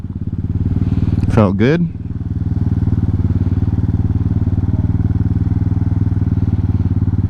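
A Hawk 250 motorcycle's engine drones steadily and loudly at close range throughout the ride, with a short spoken phrase near the start.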